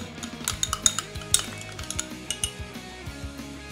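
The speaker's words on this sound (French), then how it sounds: "Je touille bien." Cornflour mixed with a little water being stirred briskly, a utensil clinking repeatedly against the bowl in quick, uneven taps, close and fairly quiet.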